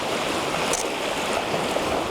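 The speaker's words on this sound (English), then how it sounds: "It'll be impossible not to get a sharp photo here of the water crashing." Water waves crashing and churning nearby, giving a steady, loud wash of surf with no breaks and no voices.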